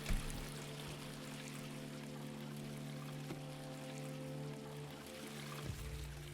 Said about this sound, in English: Okay, it just sprays water.